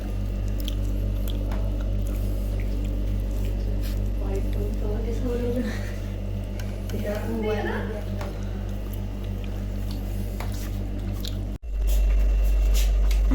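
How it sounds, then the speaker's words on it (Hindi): Someone bites into a crispy radish (mooli) paratha at a rural breakfast, giving close crunching and moist chewing over a steady background hum, with voices nearby. "मूली के पराठे की ये बाइट ली है मैंने"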